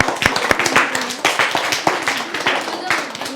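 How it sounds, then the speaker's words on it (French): A room of schoolchildren claps in sharp, uneven bursts of applause, with voices talking over the clapping. "on l'applaudit très fort"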